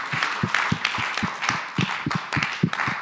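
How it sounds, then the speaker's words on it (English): A small conference audience at a nuclear energy forum claps for the panelists, a steady patter of individual hand claps for a few seconds. "please, to applaud the panelists"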